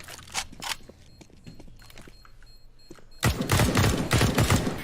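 Gunfire in a first-person shooter game, with a few scattered shots and footsteps first, then a sustained loud burst of rapid fire in the final seconds.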